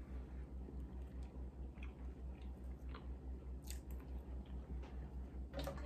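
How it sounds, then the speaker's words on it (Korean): Soft, close chewing and biting on a piece of cake bought the day before, with quiet squishy mouth sounds repeating steadily against a low, constant background hum, and no talking. "어제 사온 케이크를 좀 먹어보도록 하겠습니다."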